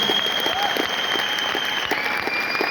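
A seminar audience in Delhi claps steadily in a dense, continuous round of applause, fairly close and even in loudness throughout.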